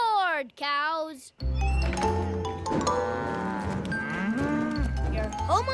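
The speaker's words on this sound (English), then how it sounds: "Cows." Animated cows in a children's cartoon moo repeatedly, loud and close, their long low calls overlapping one another against a busy backdrop, with a brief quieter call at the start.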